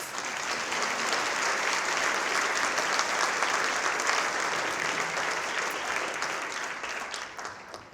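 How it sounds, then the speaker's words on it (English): Audience applause at a charity luncheon, a full room of steady, dense hand clapping that carries at an even level for eight seconds and thins slightly at the end. "Give them one more round of applause."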